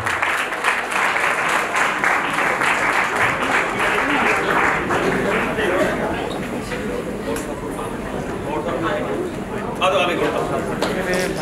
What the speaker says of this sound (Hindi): एक बार बड़ी तालियां कर दीजिए।